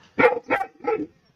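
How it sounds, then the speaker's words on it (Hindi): A dog barks three times in quick succession, close and loud, with brief pauses between the barks and near silence before and after. "वरी भौंक रहा है"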